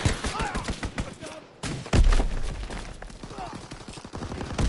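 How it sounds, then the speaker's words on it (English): Dense bursts of rapid machine-gun fire and heavy impacts from an enemy strafing run in the World War II shooter Call of Duty WWII, loud and chaotic over a continuous battle din. "Enemy strafing run inbound."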